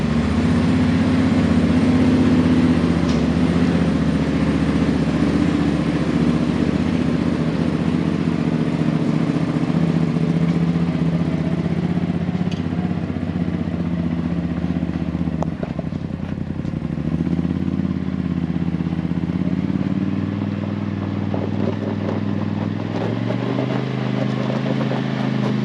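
An off-road car fitted with a long travel kit, freshly bled brakes and aligned front end, runs on a test drive with a steady, loud engine drone and some rattling clatter throughout, easing slightly midway.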